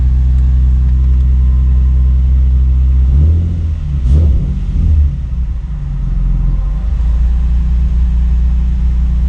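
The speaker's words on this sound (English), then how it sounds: "right now the car is cold" A Nissan 350Z sports car engine, running cold with warm-up enrichment, idles steadily with a deep, low rumble, briefly revving up and settling back down midway through.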